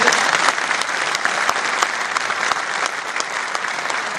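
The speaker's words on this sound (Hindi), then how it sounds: "प्रधानमंत्री का ताली बजा के आप अभिनंदन कीजिए" Steady, dense applause from a large crowd at a political address by a chief minister in Madhya Pradesh, loud and continuous throughout with no speech.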